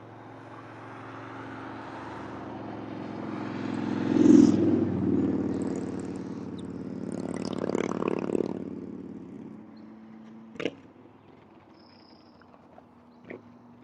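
A car engine swells and passes nearby, followed by a motorcycle's revving pass, then fades to quiet with a couple of sharp clicks.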